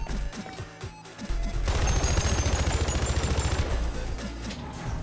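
Rapid automatic AR-15 gunfire in the video game Hypercharge Unboxed, a loud sustained burst of shots following a few scattered earlier ones, with dense crackling impacts filling most of the clip.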